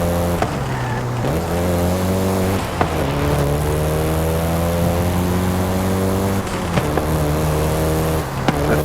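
A Volkswagen Golf GTI in Forza Horizon 5 drives with a steady, loud engine drone. The pitch climbs and then drops at a few gear shifts along the way, and no voices are heard.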